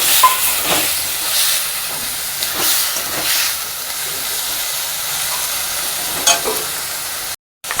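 Spice masala with chopped tomatoes frying gently on a low gas flame for doi katla, giving a steady soft hiss with occasional stirring scrapes, close and continuous, with a brief silent gap near the end.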